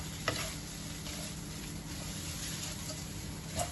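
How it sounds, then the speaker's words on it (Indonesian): Food stirred in a sizzling pan until it dries, seasoned with sugar and salt, for lontong Singapura, a steady frying hiss with occasional scrapes and clinks of a utensil, close by. "Kita aduk sampai ini mengering."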